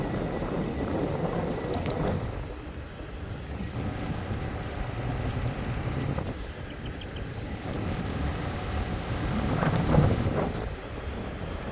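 Steady rain hisses while low thunder rumbles roll in and out, swelling to a louder peak near the end, with no talking.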